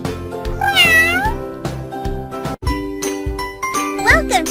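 Cartoonish cats meow in a cat shelter video game, with several rising and falling meows over a bright jingling game melody and chimes.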